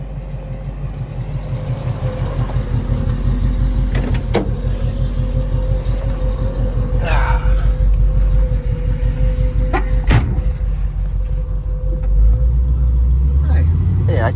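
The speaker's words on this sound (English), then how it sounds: "I told Steve we'll do a quick little lap" A 1975 Pontiac Trans Am with a 455 HO V8 and four-speed runs at a loud, steady, rumbling idle up close, with occasional clicks and thumps from inside the car.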